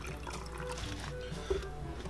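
Water is poured out of a plastic water bottle holding partly frozen slush, making a faint, brief trickling splash with a low tonal hum in the background.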